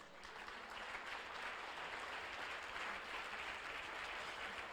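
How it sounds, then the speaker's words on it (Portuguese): A church congregation claps in steady, sustained applause, a soft, even wash of hands heard from a distance with no break. "É motivo da gente aplaudir Jesus."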